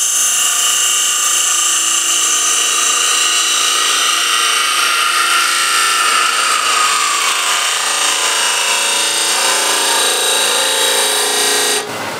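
A wood turning tool screams against a spinning timber coffee container on a lathe: a loud, sustained high-pitched whine with shifting tones that holds steady for around twelve seconds, then cuts off abruptly at the end.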